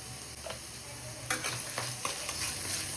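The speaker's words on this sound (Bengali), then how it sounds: "এবার কড়াইতে আবারও একটু সর্ষের তেল দিয়ে একই আকারে কাটা আলুগুলো একটু ভেজে নিচ্ছি নুন হলুদ দিয়ে।" Cut potatoes fry in mustard oil with salt and turmeric over a dried red chilli tempering in a wok, giving a soft continuous sizzle broken by several scraping stir strokes. No voices are heard.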